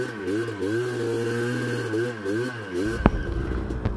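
Motorcycle engine running at a steady idle with a rhythmic, slightly wavering drone, close and fairly loud, ending in a sharp knock near the close.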